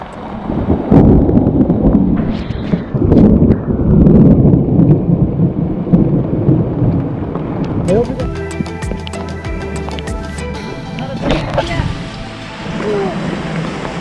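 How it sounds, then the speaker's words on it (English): A heavy tropical downpour in the Peruvian Amazon roars steadily, a dense broadband rush of rain with gusty wind buffeting the microphone and a low rumbling undertone throughout. "it started pouring rain, like real tropical rain."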